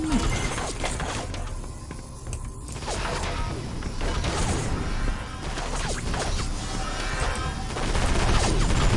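Gunfire and chaotic combat in the Area 51 first-person shooter game, a dense continuous barrage of shots, crashes and mechanical clatter filling the whole stretch at high level.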